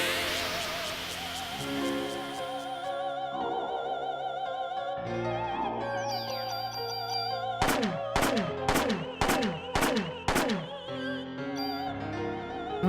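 Gunfire in the video game Parasite Eve plays over electronic game music. A rapid series of sharp synthetic shots cracks out in a quick rhythmic burst near the end.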